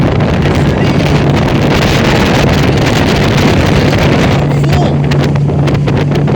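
A boat motor speeds up on the Baie de Somme, a loud steady drone buried in heavy wind buffeting the microphone, with water rushing along beneath.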